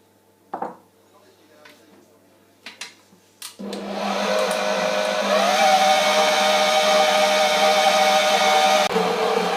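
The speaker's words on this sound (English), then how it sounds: "we're gonna let it mix together until it clumps together" Electric mixer blending gingerbread cookie dough in a home kitchen, starting after a few clicks and knocks and then whirring steadily and loudly for several seconds until it stops abruptly.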